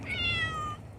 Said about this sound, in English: Aw, hi, pretty kitty.